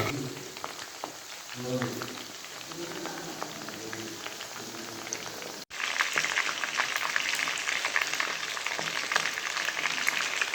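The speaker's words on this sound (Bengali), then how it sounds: "এখন আমরা এই ড্রামস্টিকগুলো ভাজছি" Chicken drumsticks fry in a pan for a drumstick recipe, a steady crackling sizzle that jumps louder halfway through after a brief break, with faint speech murmuring under the first part.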